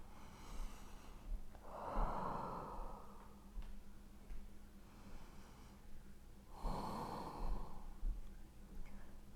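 Deep breaths during a hip mobility exercise, two long audible exhalations a few seconds apart, close and soft over a quiet room with a faint steady hum.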